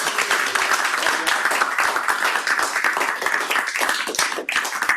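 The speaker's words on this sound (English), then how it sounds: "so I think a round of applause for" Dense, continuous clapping from an audience thanking hosts during a virtual visit to the CMS experiment control room, loud and close, with no voices over it.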